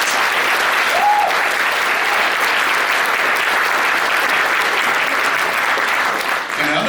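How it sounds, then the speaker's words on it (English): Loud, sustained audience applause fills the room at a Christina Grimmie Foundation East Coast event, a dense steady wash of clapping lasting several seconds with a brief lift early on and a slight dip near the end. "So let's give Bud and Marcus a round of applause."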